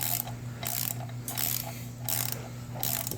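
A ratchet with an extension snugs down a bolt on a Chevy Cruze 1.4L turbo, giving three close bursts of rapid clicking with brief pauses between them over a low steady hum, with no voices.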